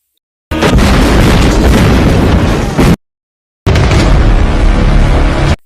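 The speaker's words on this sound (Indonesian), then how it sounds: "Lalu meledakkan kapalnya." A ship is blown up in two loud, roaring explosion bursts, each lasting a couple of seconds and separated by a short silence.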